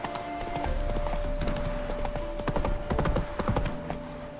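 A horse in the video game The Witcher 3 clip-clops along in a quick, rhythmic trot, its hooves striking in steady pairs close by over a faint tonal hum.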